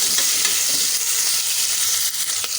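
Green chillies and tomatoes fry in a hot pan while being stirred, a loud continuous sizzle with occasional scraping from the spoon, close up and with no talking.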